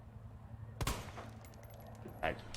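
Two sharp gunshots ring out in the Resident Evil 2 Remake video game, spaced about a second and a half apart over a low ambient hum.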